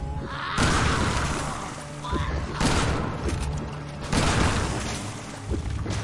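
Gunfire in Resident Evil 6: several loud, separate bursts of shots and crashing impacts in a row, spaced a second or two apart, with faint talk mixed in.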